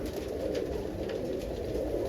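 Pigeons in a roller loft make a soft, low cooing close by over a steady murmur of background noise, with no one speaking.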